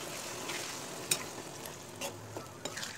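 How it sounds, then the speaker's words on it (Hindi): Potatoes and peas being stirred into a yogurt curry in a pressure cooker, with a steady soft sizzle underneath and a few sharp scraping clinks of the spoon against the metal pot, close and without talk. "अभी जो हमारे आलू मटर है हम इसमें मिक्स कर देंगे।"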